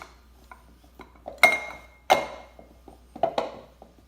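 Potato ball mixture with green chilies being stirred in a bowl, giving a handful of sharp clinks and knocks of a utensil against the dish, close and fairly quiet, with no talk.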